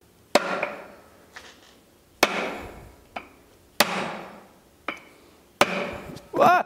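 A hammer strikes repeatedly at a glued-in part on a junkyard Plymouth, five or six sharp metallic blows spaced about a second apart, loud and close, with brief ringing after each hit.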